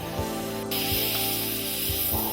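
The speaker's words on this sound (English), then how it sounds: "The crew takes water, despite the extra water tank wagon that is coupled to the Kalahari's tender." Water rushes steadily into the tender of the Kalahari steam locomotive, which also hauls an extra water tank wagon, giving a continuous loud hiss with a few low thuds and a hum underneath.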